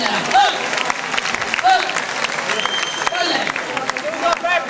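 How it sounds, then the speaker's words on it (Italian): A school audience applauds during a comedian's impressions show, a sustained clatter of clapping running under loud, animated speech and occasional whoops or laughter. "un applauso per la"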